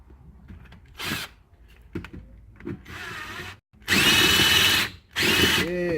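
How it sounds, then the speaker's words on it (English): Power drill drilling out a spinning rivet on a truck canopy for a Tacoma, coming in bursts: short early spurts, then longer loud runs with brief pauses between them. "you guys don't want to spend 2 hours looking at me remove a stupid rivet"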